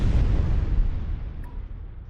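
A fusion bomb explodes in the Master of Orion video game, a deep rumbling boom that starts loud and slowly fades over about two seconds, with no voice over it.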